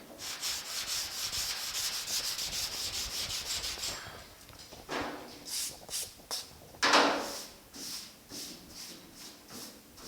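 Sandpaper of 240 grit rubs by hand over a 1950 Chevy truck door, first as fast regular back-and-forth strokes, then as slower, uneven scrubbing passes, close and moderately loud.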